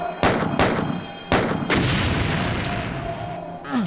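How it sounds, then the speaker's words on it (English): Barrels exploding in the shooter game Doom 64: Retribution, two heavy booming blasts a second apart with crackling, rumbling debris trailing off after each, loud and close. "But I might as well destroy all the barrels."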